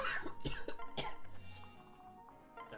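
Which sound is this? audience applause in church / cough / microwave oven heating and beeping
cough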